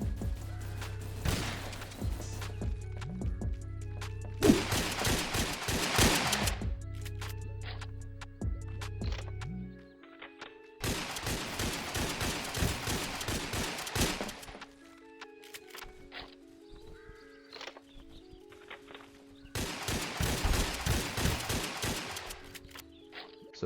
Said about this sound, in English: here are some clips of me using the new drum shotgun